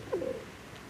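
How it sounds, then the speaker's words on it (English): A homing pigeon gives a single low, soft coo at close range, fairly quiet against faint background hiss. "You're a good bird, Goldwing."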